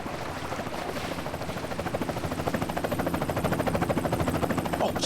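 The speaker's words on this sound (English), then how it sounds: "Chopper inbound!" A helicopter approaches in GTA San Andreas, its rotor a steady rapid chop that grows louder and closer over several seconds, with no voices over it.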